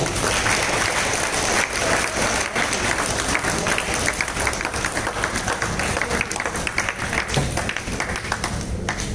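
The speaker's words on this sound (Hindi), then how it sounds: "जब भी आपको अवसर मिले आप तालियां जरूर बजाइए।" A crowd at a karate championship opening ceremony claps continuously, a loud, busy spread of hands with uneven bursts that holds steady for the whole stretch.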